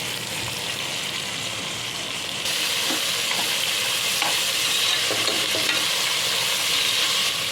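Chopped carrots, potatoes and small tomato pieces fry for veg pulao in a steady, dense sizzle that grows louder partway through, with soft stirring scrapes underneath, close up and without talk.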